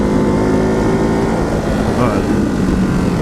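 A Ducati Hypermotard 698 Mono single-cylinder motorcycle, still being run in at 730 km, accelerating with a loud, steady engine drone throughout while a rider speaks briefly over it.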